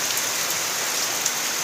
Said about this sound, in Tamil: இப்படி மழையும் பெய்துக்கிட்டு இருக்குது.